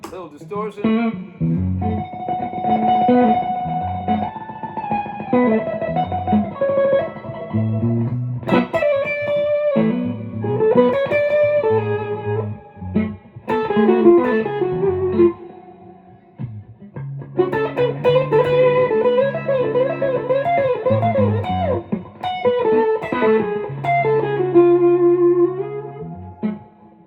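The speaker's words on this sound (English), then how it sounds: "Grab a little pick, a little distortion." Distorted electric guitar playing riffs and chords with a gritty, sustained tone, stopping briefly in the middle before resuming.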